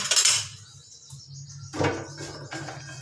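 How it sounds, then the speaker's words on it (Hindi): Boiled, drained rice being layered into a large pot of korma for biryani, heard as a few clinking scrapes of a metal spoon against the pot, close and isolated between quiet pauses. "अब मैं चावल ऊपर डाल दूँगी"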